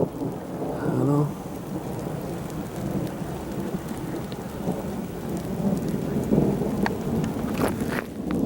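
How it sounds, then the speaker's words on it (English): Steady heavy rain pours down, a dense hiss drumming on surfaces with a low rumble underneath, continuous throughout. "It's been raining here non-stop ever since we got here today at around 2:30"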